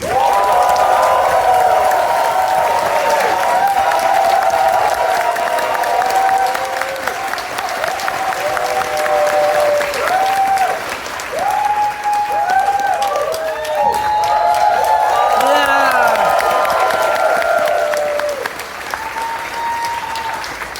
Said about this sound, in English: If you could give a big round of applause for Hexy!